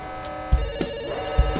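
A telephone rings in a video game, with two clear ring bursts close by, each landing on a low thump, against a steady tonal backdrop and no speech.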